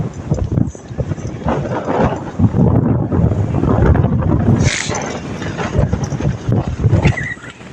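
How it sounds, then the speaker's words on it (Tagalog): Strong coastal wind at low tide buffets the microphone in loud, rumbling gusts, with a continuous roar and a faint voice underneath. "Sobrang lakas ng hangin."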